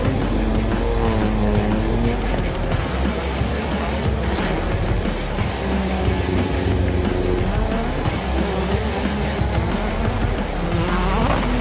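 A pack of race cars roars away at a green-flag start in North Carolina, a dense, loud and unbroken wall of engine noise with layered, shifting pitches from many cars at once.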